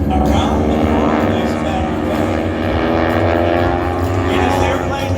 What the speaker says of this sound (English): It's a fantastic trainer airplane.